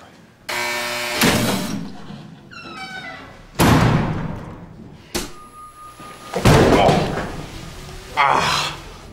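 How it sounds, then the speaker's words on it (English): Several heavy thuds and slams of a head being slammed into a table land at uneven intervals, loud and close, with voices and scuffling between the impacts, in a film interrogation scene. "Slamming someone's head into a table"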